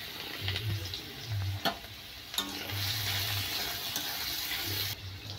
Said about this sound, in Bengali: এবার আস্তে আস্তে তেলে সব কিছু ভেজে নেব।